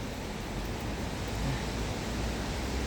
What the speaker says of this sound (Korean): 하염없이 비가 내리고 있어요.